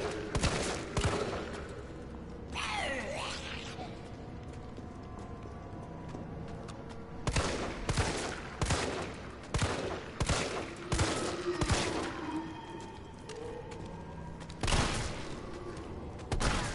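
Rapid bursts of gunfire ring out in Resident Evil 3 while fighting Nemesis, loud shots arriving in clustered volleys with short gaps and mechanical clicks between them.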